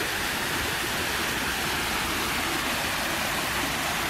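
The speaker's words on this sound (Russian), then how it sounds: "Водопадик." A small waterfall on a park embankment gives a steady, continuous rushing of falling water, close and even throughout, with no voices.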